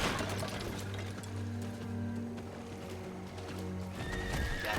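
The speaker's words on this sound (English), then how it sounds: "Wait, a horse can jump, really?" A horse in the Diablo 4 video game neighs and whinnies over clip-clopping hooves, fairly quiet and steady, with a low rumbling ambient bed underneath and no talk.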